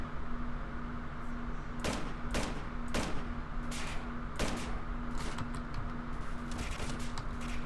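Gunfire in the shooter game STALKER Clear Sky, with several sharp bursts of shots over a steady background hum, spaced irregularly across the stretch.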